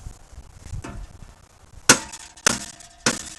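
A hammer strikes a metal truck part while a rock guard is fitted, giving three sharp, loud, ringing impacts about half a second apart after a quieter stretch of faint knocking.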